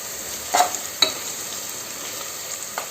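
Spices and turmeric with ginger-garlic paste frying for a mutton curry, a steady low sizzle with a couple of brief stirring scrapes, close and alone.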